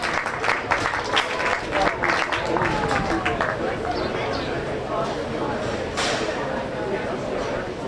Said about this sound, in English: Give this young lady a big round of applause.